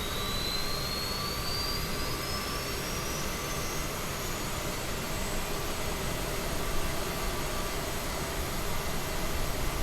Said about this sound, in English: You can hear the APU coming up.